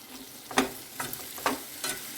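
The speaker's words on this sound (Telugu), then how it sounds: "మెంతి మంచిగా ఫ్రై కావాలి" Fenugreek seeds frying in a pan give four separate scraping, sizzling stirs at roughly half-second gaps over a low background hiss, close and moderately loud.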